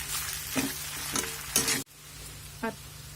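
Steamed potatoes are stirred with crushed peanuts in a pan over medium heat, giving a few soft scraping and sizzling strokes close by before an abrupt cut, with no talk.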